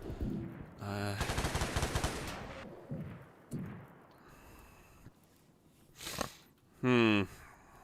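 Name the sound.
shotgun fire in the video game Rimworld Odyssey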